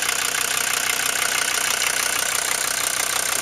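A Mercedes-Benz car engine runs at a steady idle, a close, constant mechanical hum with a faint regular pulse and no talking.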